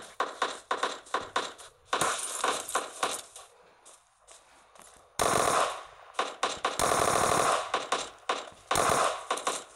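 Automatic gunfire in the video game PUBG, loud rapid bursts of shots in repeated clusters with short pauses and a few long sustained volleys, no talk over it.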